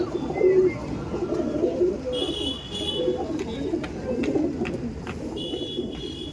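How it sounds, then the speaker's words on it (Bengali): Punjabi pigeons coo in repeated low, throaty phrases close by, with faint chirps and light rustling mixed in, and no voices. "আমি পাঞ্জাব থেকে নিয়েছি আমার পায়রা দেখুন পাঞ্জাবি পায়রা আছে"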